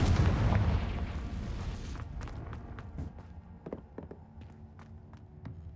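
A Confringo fire spell blast in the video game Hogwarts Legacy opens with a loud booming burst that rumbles and fades over two seconds, followed by scattered sharp crackles and impacts.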